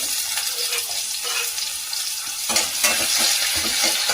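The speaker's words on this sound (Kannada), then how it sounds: "ಈರುಳ್ಳಿ ಹಾಕ್ಬಿಟ್ಟು ಚೆನ್ನಾಗಿ ಬ್ರೌನ್ ಕಲರ್ ಬರುವವರೆಗೆ ಫ್ರೈ ಮಾಡಬೇಕು." Onions frying in hot oil in a pan for a drumstick fry, a steady close sizzle with stirring scrapes that grow busier and louder in the last part.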